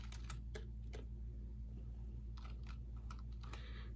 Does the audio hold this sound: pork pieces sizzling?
no